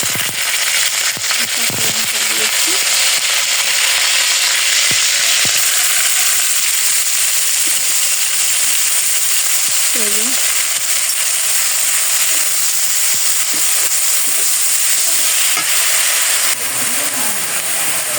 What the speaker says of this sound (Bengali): এখন এই যে শাক ভাজি করব, তেল দিয়ে শুধু